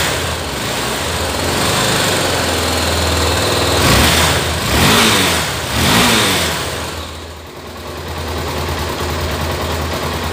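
A motorcycle engine with a charging fault and a worn-out battery revs up loudly several times over a steady idle, the pitch rising and falling with each twist of the throttle, close and alone with no talk.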